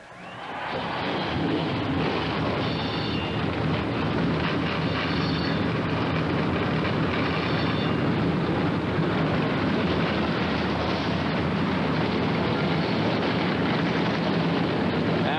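Forty-three NASCAR stock car engines fire up together at a 250-lap race, a dense, steady roar that swells in and holds, heard from a distance across the track.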